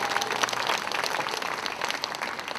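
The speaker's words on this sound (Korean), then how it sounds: "큰 감사의 박수 보내주시면 고맙겠습니다." A seated crowd applauds at the opening ceremony of the 2023 Buddhist culture festival in Korea, with steady, even clapping that fades slightly toward the end and no speech over it.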